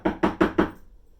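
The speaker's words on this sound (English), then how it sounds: "and then you knock on something wooden." Four quick, evenly spaced knocks on a wooden surface, rapped away from the door during dog door-behavior practice, sound close and crisp before fading into silence.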